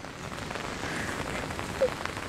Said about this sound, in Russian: Дождь, когда еще такое будет?